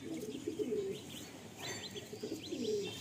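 A Madrasi patta pigeon coos softly in a loft, a few low, rolling calls repeating with short gaps under faint background noise.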